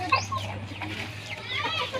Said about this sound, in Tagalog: Ang dami nilang manok.